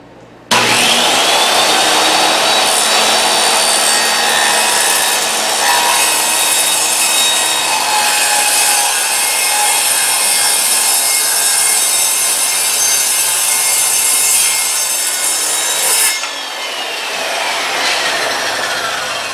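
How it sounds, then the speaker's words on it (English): Wood cut along a marked line for a drawer build makes loud, continuous sawing that runs steadily for about sixteen seconds before easing off, close and with no talking. "Well, it took a lot of tries, but I finally cut it straight on the line."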